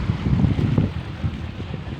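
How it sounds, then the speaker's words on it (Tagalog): Strong wind buffets the microphone by the sea, a low rumbling roar with uneven gusts that is loudest early and eases slightly, no talk over it. "Pero hindi siya masyadong maalon dito. Kahit malakas ang hangin."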